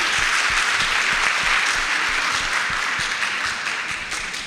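A staff assembly audience applauds steadily, with many hands clapping in a continuous dense wash that tapers slightly toward the end.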